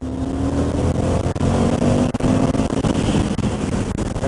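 An Indian FTR 1200 motorcycle at full throttle in fourth gear, pulling from about 4,000 rpm at 50 mph: a loud, steady engine roar building continuously, heard up close with wind rush.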